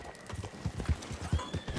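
Horses in the Red Dead Online video game, hooves clip-clopping in a quick uneven rhythm at moderate volume, with faint background game ambience.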